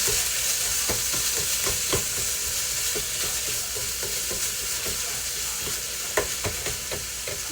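Ground beef browns in a hot pan, a steady loud sizzle broken by scraping and tapping as the meat is stirred.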